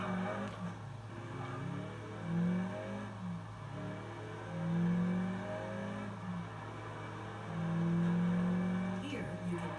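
A video game car engine hums and revs in rising swells while the car drives and makes a handbrake turn, with a steady low drone underneath.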